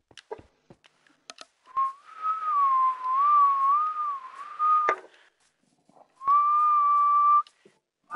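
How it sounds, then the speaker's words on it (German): A person whistles a wavering, sustained tone close by, breaking off briefly and then holding a steadier second note, with a few faint clicks in the background. "hör auf zu pfeifen"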